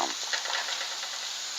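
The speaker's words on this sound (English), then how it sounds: "Keep stirring it, keep moving it, let it cook down." Cabbage, carrots and onions frying in a pan, stirred continuously: a loud, dense, close sizzle with the rustle of moving vegetables, steady throughout with no voices.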